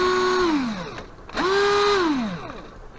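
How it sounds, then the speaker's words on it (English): A cordless drill converted from a NiCad to a lithium-ion battery spins up twice, each burst a loud close whine that holds steady and then winds down, with a short pause between the runs. "And now we have a functioning drill"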